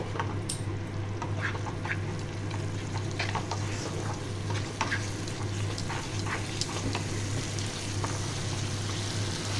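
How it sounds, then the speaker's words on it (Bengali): Thick fish curry masala with yogurt fries in a pan over a low flame, giving a continuous soft sizzle with occasional spoon scrapes and a low steady hum underneath. "এটা আবার আমি কষিয়ে নিচ্ছি"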